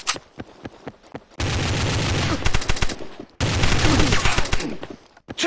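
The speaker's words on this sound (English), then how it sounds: "Under heavy fire!" Heavy gunfire from the Counter Attack CS Ops Android shooter: scattered single shots, then two long stretches of dense, loud automatic fire separated by a brief pause.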